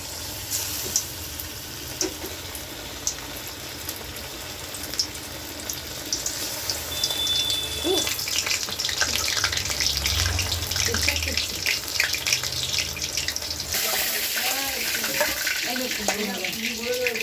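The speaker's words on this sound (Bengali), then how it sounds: "বন্ধুরা তেলে ছাড়ছি, দেখো" Bombay duck (lote fish) fritters dropped into hot oil, first a low bubbling under background hiss, then a loud, dense crackling sizzle that swells and holds near the pan, with a voice talking over it.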